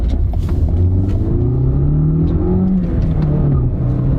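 A zippy small car with a manual transmission pulls away hard, its engine revving up with a steady loud rumble while the tires give a brief chirp of rubber.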